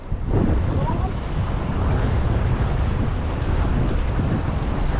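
Strong wind roars steadily across the microphone, mixed with the rushing wash of sea water, loud and unbroken throughout.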